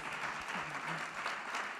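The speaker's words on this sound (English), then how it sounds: "Yes, give them a round of applause." Audience applause at an education-investment summit dinner on a livestream stage, steady dense clapping sustained throughout without a break, moderately loud, with faint voices murmuring underneath.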